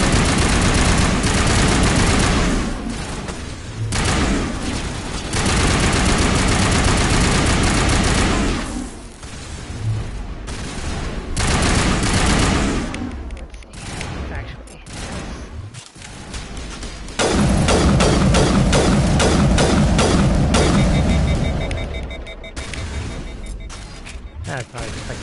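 Assault rifle gunfire in Mass Effect Legendary Edition rattles out in dense, loud bursts over game explosions and combat noise, with a player talking intermittently.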